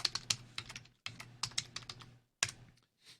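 A command is typed on a computer keyboard as crisp, close keystrokes in three quick bursts separated by short pauses, ending in a final softer tap.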